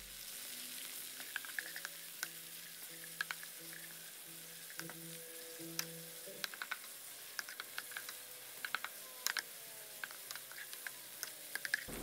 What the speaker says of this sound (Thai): ให้เราผัดหมูร้อยสุกเลยนะครับ